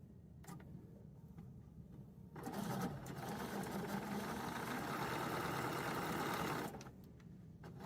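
Sewing machine stitching the border of a snowmen-themed quilted table topper, a steady close whir that rises louder through the middle before easing off, with no talk.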